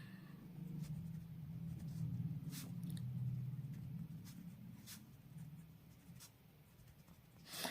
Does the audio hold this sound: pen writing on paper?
yes